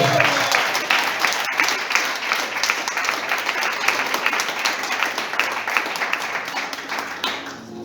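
A church congregation at an evening worship service gives sustained, dense applause that fills the space steadily before fading slightly at the end, with faint voices mixed in.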